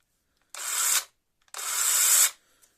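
Lider cordless mini chainsaw with an extension running: two short, close whirring bursts, the first under half a second and the second nearly a second long, separated by a brief pause.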